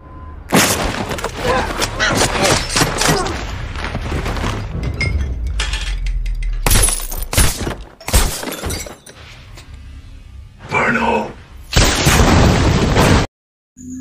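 A steel door blasted open in an action film, followed by a chaotic stretch of loud bursts, breaking and shattering impacts, and sharp gunfire cracks, with brief drops to near silence between the heaviest blasts.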